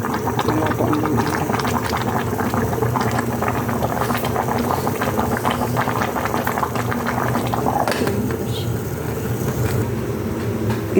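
Okra and tough kangkong stems simmer in a pot at a steady rolling boil, a continuous close bubbling and hiss that holds level throughout with no one talking.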